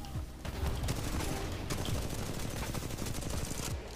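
Sustained rapid automatic fire from an R-101 carbine in a video game, a dense rattling burst of shots lasting several seconds, loud and close.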